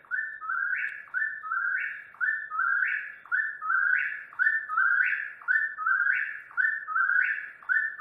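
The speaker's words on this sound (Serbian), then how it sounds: "This is what that bird sounds like." A bird at night sings the same short whistled call again and again, about a dozen evenly spaced phrases in a steady rhythm, clear and fairly close with no other sounds.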